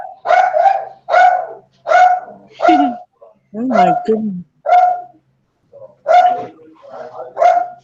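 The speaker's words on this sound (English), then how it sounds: "Oh, the dog?" A dog barks repeatedly at close range in a home during a live video chat, sharp barks in an irregular string with a low growl in the middle, while a person briefly exclaims.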